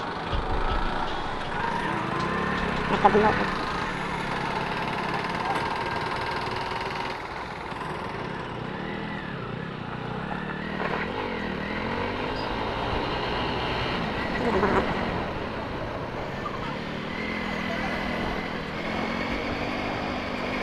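Motorbike engine running steadily while riding along a coastal route in Vizag, a continuous droning rumble with wind noise throughout and a brief voice near the start.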